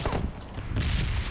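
A brief, loud burst of gunfire in the mobile shooter PUBG Mobile, a dense rattle of shots filling just over a second.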